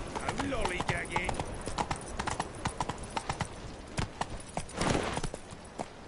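Horse hooves clip-clop in a quick galloping rhythm in The Witcher 3 video game, steady and close, with occasional snorting and voices talking over the hoofbeats.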